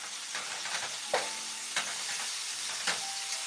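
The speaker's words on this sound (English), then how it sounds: "Stir my gravy, or stir my sausage a little bit" Pork sausage stirred while frying in a pan, a constant sizzle and hiss with a few scraping utensil strokes breaking through, close and steady.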